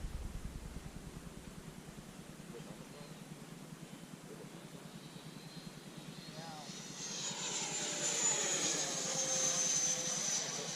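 A Freewing F-16 V2 RC jet with a 90mm electric ducted fan flies overhead, its steady rush swelling into a louder, high-pitched whine as it passes near, with people talking over it.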